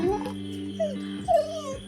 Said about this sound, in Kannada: ನಾಯಿ ಬೊಗಳ್ತಾ ಉಂಟು ಜೋರಾಗಿ